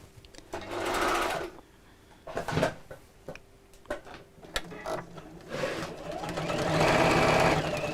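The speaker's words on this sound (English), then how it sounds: "I'm simply going to sew along each one of the lines." A sewing machine stitching along the lines of a chenille bag in bursts of rapid whirring, with pauses, clicks and handling noise between runs, up close.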